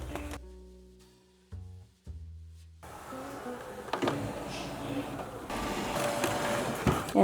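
A Cricut cutting machine pulls in a sticker mat for planner stickers with a motorized whir, stepping in short mechanical bursts before running more steadily. The sound is close and moderately loud, and nobody speaks.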